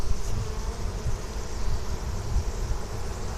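Honey bees buzzing in a hive just after two colonies were combined, a dense continuous drone close to the microphone, with no speech.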